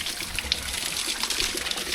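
Tap water runs steadily at a home in a village, a close continuous splashing hiss with small gurgles and no voices.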